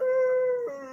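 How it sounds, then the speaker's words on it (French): A dog out in the countryside near a stream gives a single drawn-out tonal howl, fairly loud and clear, holding steady before dipping in pitch at the end, with no talk. "Ah, il y a un chien là-bas, ouais."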